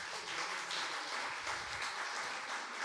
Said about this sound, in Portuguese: Merece palmas.